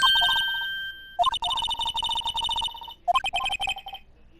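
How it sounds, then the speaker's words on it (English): A cell phone rings with the Steel Samurai theme from the Phoenix Wright video game, a bright, melodic electronic ringtone playing clearly in two loud bursts separated by a short gap, with no talking. "Yep, that is the Steel Samurai theme."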